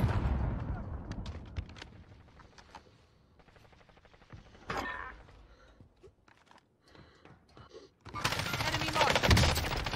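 Rocket launches and gunfire in a Call of Duty Warzone match, scattered sharp bursts and booms at moderate distance, ending in a loud sustained blast, with players talking over the game sound.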